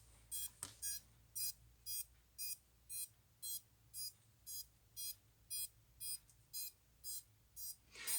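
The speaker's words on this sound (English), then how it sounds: "If you put your ear close to the motor when it's beeping like this, you can actually hear if they're working." Mobula7 micro drone motors beeping during a repair check for a loose motor wire, a faint, regular series of short electronic beeps in an even rhythm, about two per second, heard close with no talking.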